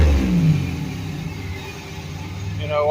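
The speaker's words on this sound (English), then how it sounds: "This thing's been running about 45 minutes." Turbo V6 engine idling at about 700 RPM and revving toward a 3,800 RPM fuel cut, a loud steady low rumble with a brief rev swell near the start, heard close up.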